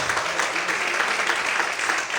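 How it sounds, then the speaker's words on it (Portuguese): Steady, full applause from a church congregation at a night worship service, many hands clapping in a continuous even roar that holds at the same loudness throughout, with a murmur of voices underneath. "Todos podem aplaudir e exaltar a nome dele bem forte."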